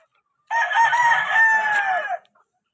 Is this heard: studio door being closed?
no